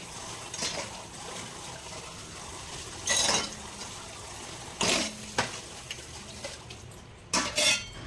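Dishes being washed in a home kitchen: scattered clinks and clatters of pots, plates and cutlery arrive in a few short bursts over a steady background of running water, fairly close, with no talking.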